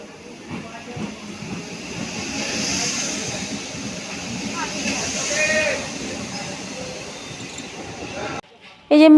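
A passenger train arrives at a station with a long, steady rumble and hiss that rises slightly and then cuts off abruptly. People talk nearby throughout.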